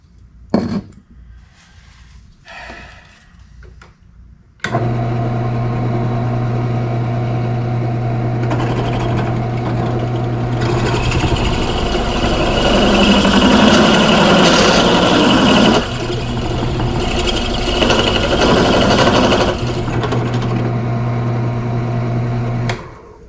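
Quiet clicks give way to a steady motorized hum and tonal whine of a brake lathe cutting an early Ford brake drum, the grinding cut growing rougher and louder midway before easing.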